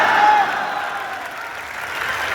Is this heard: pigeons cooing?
no